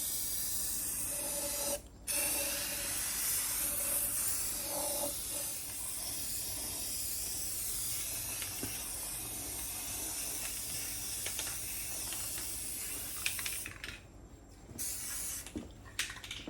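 A spray gun lays a second coat of paint on the doors of a 1972 VW Super Beetle, a loud steady hiss in long bursts with brief pauses between passes, with no talk.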